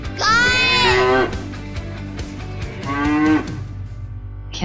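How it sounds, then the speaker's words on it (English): A cow moos twice, each moo long, loud and close, with a short pause between them and no other sounds. "Cow, cow."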